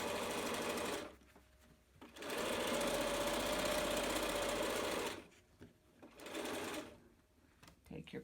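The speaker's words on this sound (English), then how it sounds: "Edge stitching, remember to sew over the elastic, go back, and over the elastic again." A sewing machine edge-stitches over elastic on a fabric face mask in loud, close bursts, one short run, a longer steady run, then another, with pauses between as it sews back and forth.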